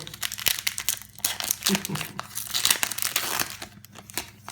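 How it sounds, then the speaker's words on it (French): Crinkling and tearing of a foil Pokémon card booster pack being pulled open by hand, a run of close, bursty crackles and rips with a voice talking alongside. "pour le dernier booster de cette vidéo, de cette Pokébox même, si j'arrive à l'ouvrir"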